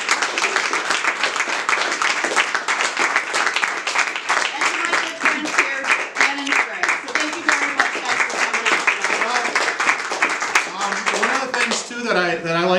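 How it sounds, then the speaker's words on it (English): An audience at a film premiere talk claps for the filmmaker, a sustained run of hand claps with a voice talking over them and a speaking voice rising more clearly near the end. "So big round of applause for you."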